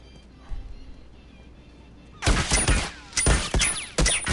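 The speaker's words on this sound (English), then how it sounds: "Grenade launcher." Weapon fire in The Last of Us multiplayer video game, a grenade launcher among it, bursting in after a quiet stretch as several loud, close, booming shots with short gaps between them.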